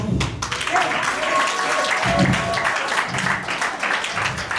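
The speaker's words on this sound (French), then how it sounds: "Je veux qu'on acclame le Seigneur pour mes parents" A church congregation celebrating a prophetess's anniversary applauds in acclaim, a steady dense wash of clapping from many hands that runs throughout, with voices and speech mixed in.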